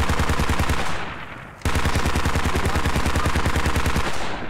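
Rapid automatic gunfire in the military shooter game Squad, loud and close, firing in long continuous bursts with a brief dip before another sustained burst.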